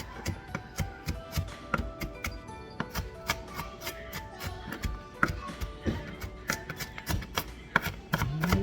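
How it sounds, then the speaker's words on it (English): A knife chops fresh onion on a cutting board for seafood macaroni salad, crisp sharp knocks in a quick, slightly uneven rhythm, close and clear without talk. "We got an onion chopped up, looking good."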